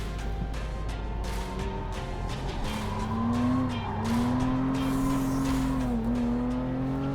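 A Lotus Emira sports car with a manual gearbox drives hard through corners, its engine droning and rising in pitch with smooth revs, rolling tyre noise underneath, heard steadily from inside or close by.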